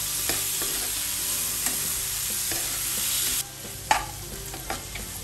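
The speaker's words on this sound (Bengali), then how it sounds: "এখন 1 মিনিটের মতো আবারও ভাজা ভাজা করে নিব ভিউয়ার্স" Eggplant frying in a pan with green chili and dried surma fish while being stirred, a steady broadband sizzle broken by scraping spatula strokes and clacks, close and continuous with no talk.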